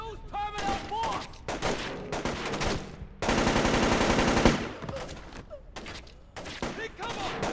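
Gunfire bursts in the stealth video game Splinter Cell: Chaos Theory, with repeated rapid machine-gun volleys and scattered shots, one sustained fusillade in the middle, mixed with shouted voices.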